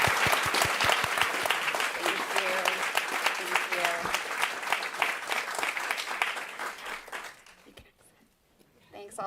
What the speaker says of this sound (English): Thank you all so much. Round of applause.